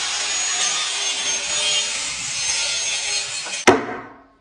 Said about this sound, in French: Et Matt, tu me coupes les marches?